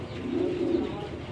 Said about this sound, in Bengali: দেখেন একেবারে ফার্স্ট ক্লাস একটা রেড চেকার পেয়ার।